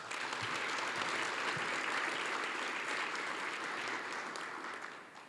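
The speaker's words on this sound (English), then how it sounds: "Let's give her a round of applause." Audience applause for an education awardee at an Excellence in Education anniversary celebration, a steady, dense wash of clapping from a large crowd that holds even and then tapers slightly at the end.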